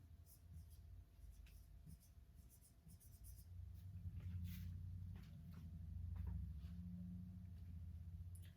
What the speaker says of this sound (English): So I'm going to write parallelogram